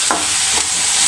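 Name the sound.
tomatoes being stirred and sizzling in a pan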